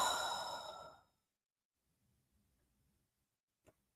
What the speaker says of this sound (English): taking a deep breath in, cleansing breath, and breathe out